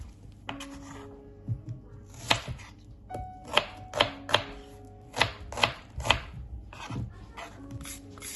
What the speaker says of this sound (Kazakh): Жуамыздың барлығын осылайша көбік етіп турап аламыз.